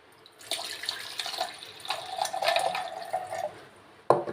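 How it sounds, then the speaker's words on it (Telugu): Water runs from a kitchen tap over seeds being rinsed in a bowl before soaking. The flow splashes steadily at close range and ends with a sharp knock. "కొంచెం వాటర్ వేసుకుని కొంచెం కడిగేసుకుందాం."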